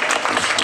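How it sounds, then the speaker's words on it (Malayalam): Audience applause at a Women's Day social media award ceremony held by Bombay Gold and Diamonds, a brief, steady burst of clapping from a crowd, fairly close and loud throughout. "നല്ല കയ്യടി പോരട്ടെ"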